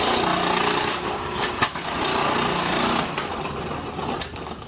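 A food processor whirs loudly in a home kitchen while chopping squash for paleo fish sticks, a steady motor roar with a few brief clatters as pieces hit the blade.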